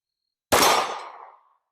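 A single sharp gunshot from a Ruger LC Carbine firing 10mm handloads cracks out loud and close, then trails off into a short decaying echo.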